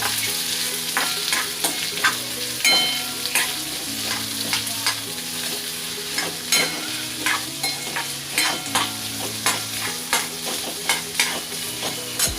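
Onion, bay leaves and cardamom sautéing in a pan for a restaurant-style paneer gravy: a constant sizzle broken by regular, rhythmic spatula strokes, with background music playing underneath.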